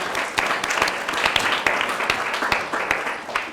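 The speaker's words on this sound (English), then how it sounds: "A big round of applause for them." A crowd claps enthusiastically, a loud, continuous patter of many hands close by with a few sharper individual claps standing out.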